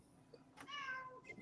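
A house cat gives a single short, faint meow, heard at a distance against a quiet background with no talk.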